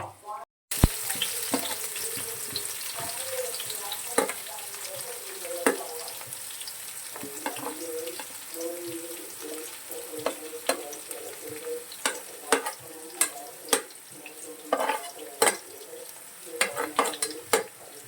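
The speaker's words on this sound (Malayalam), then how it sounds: "അപ്പോൾ ഉലുവയും കടലയും കടുകും കിടന്നിട്ട് പൊട്ടട്ടെ" Fenugreek, chickpeas and mustard seeds crackling and spluttering in hot oil, a steady sizzle dotted with sharp popping bursts that grow more frequent toward the end.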